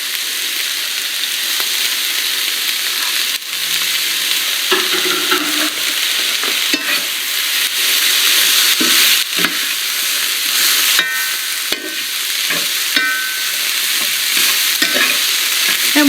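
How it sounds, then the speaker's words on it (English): Onions with a garlic and ginger blend sautéing over very low heat, a constant hissing sizzle with repeated scraping stirs and occasional utensil taps. "And we'll let those saute until the onions are translucent"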